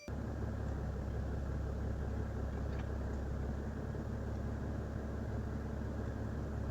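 A Mercedes-Benz Sprinter van's diesel engine idles steadily, a loud constant drone with a dense, even rumble that stays unchanged from start to finish, with no voices.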